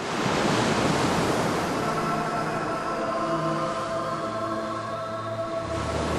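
Sea waves crash and roll continuously in a loud, broadband wash of surf, with some wind noise on the microphone and no speech over it.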